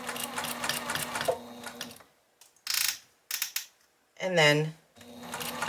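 A sewing machine stitches a sampler quilt block, running in short bursts of rapid mechanical whirring separated by pauses, close and fairly loud, with someone speaking briefly at the start.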